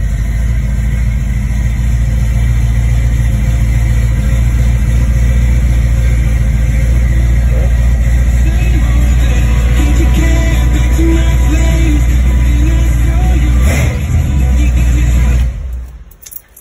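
A 1966 Ford Mustang engine idling loud and close with a steady low rumble that holds for most of the stretch, a brief surge near the end, then cutting off abruptly.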